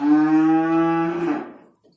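A Limousin cow in a cattle dealer's pen lets out a single loud, drawn-out moo close by, lasting about a second and a half before fading into quiet.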